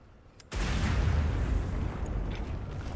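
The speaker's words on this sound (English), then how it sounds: "I've set a bomb!" A bomb blast in Monster Hunter Wilds: one sudden loud boom after a short quiet lead-in, then a long rumbling, roaring decay that fills the rest of the moment.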